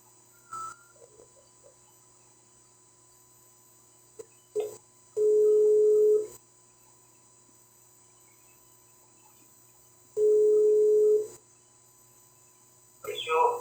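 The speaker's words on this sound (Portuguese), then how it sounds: "vamos ligar aqui para o irmão Raimundo" A telephone line tone plays during a call, with two long steady beeps separated by a silent gap and faint voices and small noises in a quiet room.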